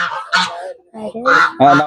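A goose honks loudly and close by in several harsh, nasal calls, two short ones, a pause, then a quick run of louder honks.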